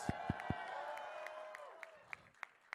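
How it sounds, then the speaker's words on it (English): A crowd at Andrew Yang's post-Iowa-caucus campaign speech cheers with a few sharp claps. The applause is faint and distant, with a sustained tonal cheer that fades out. "Let's give them a round of applause."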